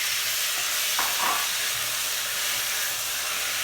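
Red peppers sauté in a pan for black bean soup, a steady hiss and sizzle with light stirring scrapes, close and continuous, no talking.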